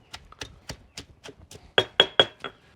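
A fresh ingredient is bruised on a cutting board before blending: about ten dull, evenly spaced knocks and thuds, the last few sharper and louder, close up with no voices.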